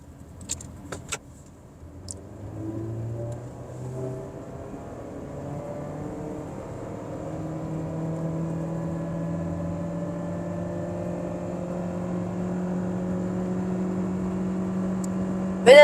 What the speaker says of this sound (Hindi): अब हम आपको स्पोर्ट पे करके इसका पिकअप चेक करवाते हैं।